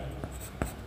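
Pen or chalk writing out a math step during a trigonometry lesson, two short scratchy strokes close up, with no speech.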